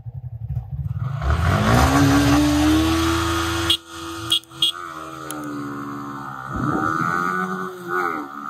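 Yamaha R15 V4 and R15 V3 motorcycles launch in a drag race, engines climbing in pitch to a loud sustained whine. Sharp gear shifts break the note before it rises again.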